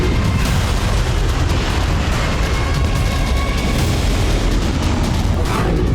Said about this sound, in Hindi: युद्धपोतों से निकलती मिसाइलें आसमान की ओर उठ